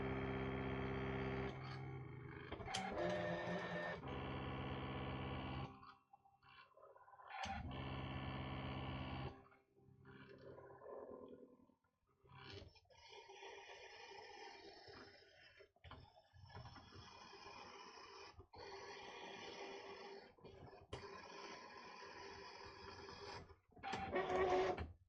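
A Brother ScanNCut cutting machine with an auto blade draws and cuts in one pass, giving stop-start mechanical whirring and buzzing bursts of motor movement with short pauses, close and fairly loud, with no talking.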